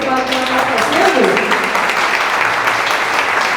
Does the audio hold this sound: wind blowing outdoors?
no